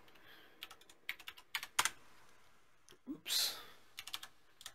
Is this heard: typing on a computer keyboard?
yes